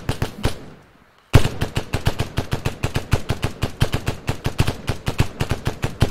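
Rifles fire in a video game in rapid, loud bursts, with a few opening shots, a brief pause, then a long fast volley of evenly spaced reports close by.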